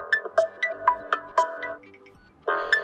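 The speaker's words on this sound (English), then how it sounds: "We can also quickly change our ringtone" Ringtone from a TCL 20 Pro 5G phone: a repeating bright melodic pattern of chiming notes, close and clear, pausing briefly before a fuller phrase resumes, with no talking.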